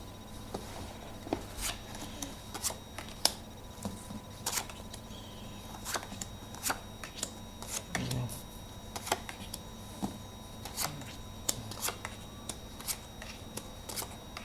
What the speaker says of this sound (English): And then I'll just continue dealing out cards.